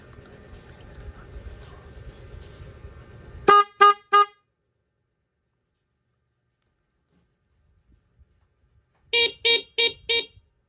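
Short electric motorcycle dual horn beeps, a small and a loud horn, sound close and loud: three quick honks, a long silence, then four more in a brisk rhythm.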